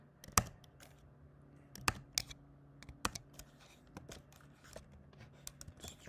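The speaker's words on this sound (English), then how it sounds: "so we're gonna type" Typing on a computer keyboard while entering a pip install command, a quiet run of irregular clicks and keystrokes with a few sharper taps, close by and alone.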